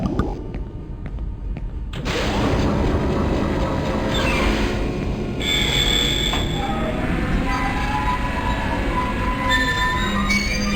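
A tram car rolling along tracks in the horror game Dead Space Demake, a steady loud rumbling rush with metallic screeching wheel squeals over it, heard alone without talk.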